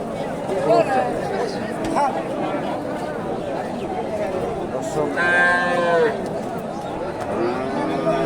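Cattle and other livestock at a busy village cattle market in Bogura, with bleating and lowing calls rising over steady crowd chatter and close talking.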